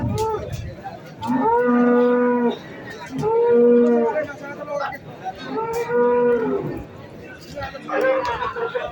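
Male Friesian Holstein cattle at a cattle market in Wonoasi bellow in loud, drawn-out moos, three long calls and the start of a fourth, close by over a background murmur of people.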